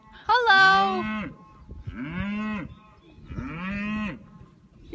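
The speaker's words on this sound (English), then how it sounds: "it's primarily Angus and Hereford cattle" Angus and Hereford cattle moo three times in succession on a farm, the first call loudest and the next two softer, each a drawn-out lowing call close by with quiet pauses between.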